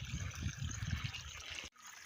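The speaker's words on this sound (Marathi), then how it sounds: "तर पाणी वाहतं इकडून असं खालच्या बाजूने जाते" Water trickling steadily through a flooded rice paddy, a continuous soft close-up babble of flowing water that cuts off abruptly near the end.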